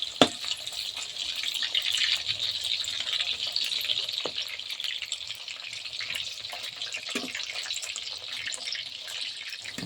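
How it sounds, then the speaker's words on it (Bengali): Chicken pakoras deep frying in hot oil, a steady bright hiss and crackle running throughout with a few soft clicks, close and fairly quiet, no talking. "এইভাবে কিন্তু আমি সব পকোড়াগুলোকে ভেজে নেবো মিষ্টি জালে"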